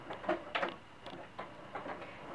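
A sewing machine stitches a small cloth doll shoe, a soft, quiet run of quick rhythmic needle clicks that stops and restarts briefly.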